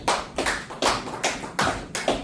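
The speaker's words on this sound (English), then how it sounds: "Clap your hands if you are a licensed Indiana driver." An audience claps hands together in a steady unison rhythm, six or so broad crisp bursts evenly spaced, with no talking over them.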